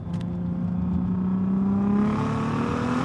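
Engine of a 700 hp HPA Motorsports Audi TT with a turbocharged VR6, pulling steadily in third gear. Its loud, close drone rises smoothly in pitch across the whole stretch, with no talking.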